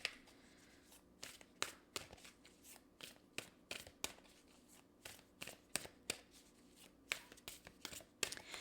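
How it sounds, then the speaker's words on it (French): Cards from a Universe Has Your Back oracle deck are shuffled and handled, giving soft, close riffling and a string of sharp little slaps at uneven intervals, quiet overall. "Je vais aller vous chercher une carte de Universe Has Your Back."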